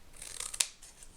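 Scissors snip through paper while trimming a piece for a handmade Easter egg card, a single crisp close cut with faint rustling of paper around it.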